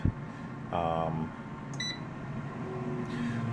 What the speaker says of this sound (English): Once you select it and you hit the power button, as I just did, it'll go through and do its cycle